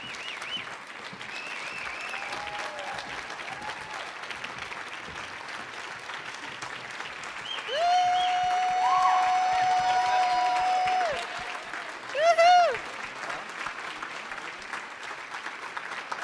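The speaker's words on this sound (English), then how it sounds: "let's bring all of our storytellers back out on stage for one final round of applause" Audience at a storytelling showcase on stage applauds steadily, a sustained wash of clapping from a crowd, with a few faint tonal sounds and brief speech over it.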